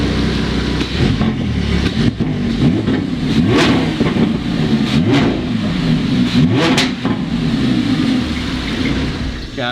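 A rebuilt Lamborghini Huracan with its stock exhaust is revved repeatedly up close, with loud, rhythmic blips swelling and dropping back over a steady idle.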